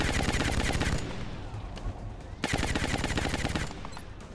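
Suppressive automatic gunfire in the turn-based strategy game XCOM Long War, two loud sustained bursts of rapid shots separated by a brief lull, with a faint voice underneath.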